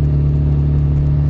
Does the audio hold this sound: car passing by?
yes